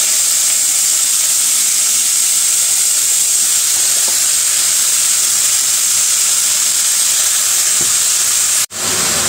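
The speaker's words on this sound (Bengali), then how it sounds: "দিয়ে দিলাম কালো জিরা আর মরিচ, শুকনো মরিচ।" Black cumin seeds and dried chillies fry in hot oil in a pan, giving a steady, loud sizzle and hiss throughout with a brief drop near the end.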